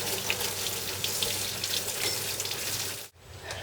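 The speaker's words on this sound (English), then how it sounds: "I'm going to go wash my hands." Water runs steadily from a tap while hands are washed after handling antifreeze, a continuous close splashing hiss that stops abruptly near the end.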